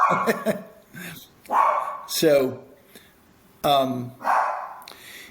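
A puppy barks and yips in short bursts in the background of a room while a person talks over it.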